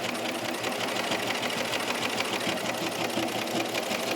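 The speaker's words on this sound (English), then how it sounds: "now we're going to stitch on the main t-shirt part with the seam allowance towards the shirt" A sewing machine stitches the neckband of a knit V-neck top onto the shirt body, running as a steady fast whirring hum with a dense, even chatter of needle strokes, close and continuous throughout with no talking.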